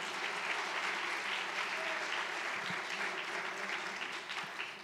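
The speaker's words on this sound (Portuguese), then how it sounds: "Vamos aplaudir ao Senhor." A church congregation at a family conference claps in sustained applause, a dense, even wash of hands that fades slightly at the end.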